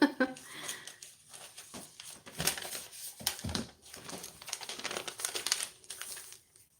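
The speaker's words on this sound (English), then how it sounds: "this is the hanger paper that they put on your stuff from the cleaners" Hands handle and crumple dry-cleaner hanger paper up close, making bursts of crisp crinkling and rustling with brief pauses between them.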